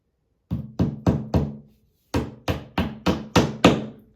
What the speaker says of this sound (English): She didn't believe me when I said that the tap shoe works like a hammer.